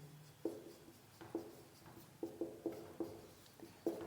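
Chalk or marker writing on a board in a lecture room, with quiet, repeated short taps and strokes at an uneven pace, close and faint against a soft room background.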